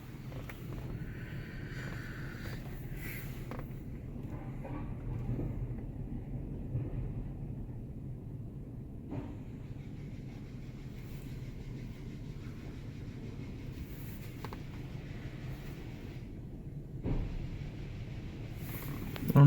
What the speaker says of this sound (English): Oh, it's washing the wheels.